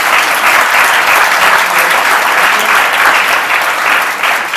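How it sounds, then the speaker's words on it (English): Steady, dense applause from an audience at a school board strategic planning meeting, honoring students; loud, continuous clapping that holds evenly throughout with no talk over it. "Let's give them one more round of applause."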